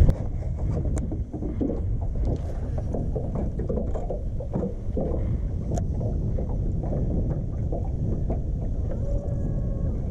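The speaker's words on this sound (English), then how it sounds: "Kind of staying in this wind." Steady wind buffeting a microphone on a bass fishing boat, a constant low roar with faint creaks and clicks of gear, continuous and close, no voices.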